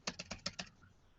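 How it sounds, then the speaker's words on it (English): Quick typing on a computer keyboard, about five crisp keystrokes in a short burst and then quiet, close-up and fairly soft with no voice. "I'm typing."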